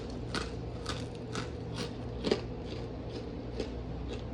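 Crispy golden crêpes being bitten and chewed, a regular series of crunchy bites and crackles about twice per second, close and fairly quiet.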